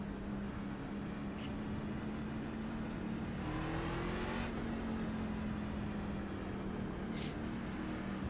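A racing truck engine in the iRacing game at Phoenix, a loud continuous drone that swells as it revs up and pitches around the middle, with other trucks' engines blending in throughout.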